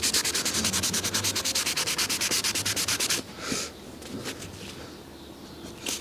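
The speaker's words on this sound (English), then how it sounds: "just give it a little bit of a rub down, gently" Hand sanding scuffs on the body of a 2016 Fiat 500 Pop produces fast, rhythmic back-and-forth rasping strokes for about three seconds. Softer, irregular rubbing follows, close up and alone.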